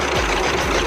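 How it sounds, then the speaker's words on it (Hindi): A Massey Ferguson 135 tractor engine running, a close, loud, steady low diesel chug with continuous rapid knocking, heard alone for about a second. "ये 100 मैसी फर्गूसन 135 मॉडल है।"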